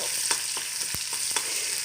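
Crushed onion, garlic and a dried chili fry in hot oil for a curry, giving a continuous close sizzle broken by a few soft scraping stirs.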